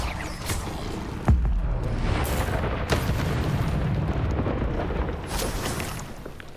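A Confringo spell explosion in Hogwarts Legacy, a sudden booming blast followed by a second burst and rumbling, crackling debris under continuous game noise.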